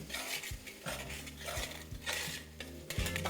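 A spatula stirs spices for sambar in a pan, making repeated scraping, clinking strokes against the metal with a light sizzle underneath.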